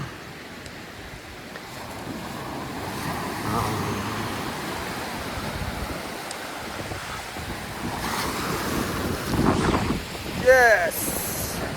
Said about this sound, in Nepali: हेर्नुहोस् छालहरू कस्तो चलिरहेको छ आज